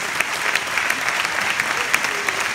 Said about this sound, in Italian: È un bel applauso, ascolta